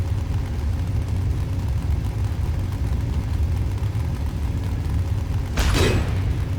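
An explosion in a Warhammer 40,000 Orks-versus-Tyranids strategy video game bursts briefly near the end, a sharp blast rising over a steady low engine-like rumble.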